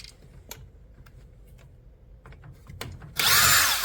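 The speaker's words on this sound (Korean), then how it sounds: "나사 뒤쪽에 있는 마저 고정 나사 하나를 풀도록 하겠습니다" A power drill spins out a fixing screw on an LG front-load drum washing machine, first as quiet clicks and handling and then as a loud, close whir that keeps going to the end.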